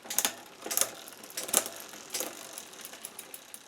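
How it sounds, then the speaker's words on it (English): Bicycle drivetrain shifting onto the smallest front chainring and largest rear cog, heard as a handful of sharp ratcheting clicks and a brief chain rattle, close and fairly quiet, with no talking. "First, go ahead and shift to the smallest chainring and largest cog."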